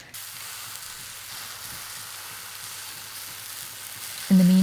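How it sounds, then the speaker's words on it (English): Quartered cabbage sears in a hot, dry pan with no oil, giving a steady, close sizzle and crackle that runs unbroken, ending with a brief higher clatter. "then I quarter the cabbage and fry it in a hot pan without any oil"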